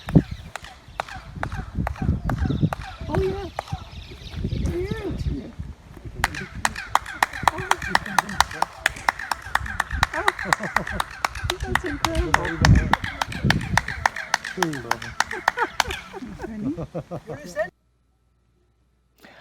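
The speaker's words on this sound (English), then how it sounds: "Now let's listen to the acoustics that sound like a bird call." Handclaps at Maya ruins in the Yucatan return a sharp chirping echo like a bird call, repeated in a steady rhythm of crisp claps amid outdoor chatter and voices of a tour group.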